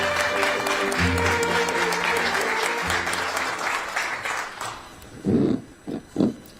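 Warm applause from an audience at the opening ceremony of the Ministry of Oceans and Fisheries office in Busan, greeting the vice minister. It sounds as a dense, sustained crowd clapping, then thins out, and a few voices speak at the end.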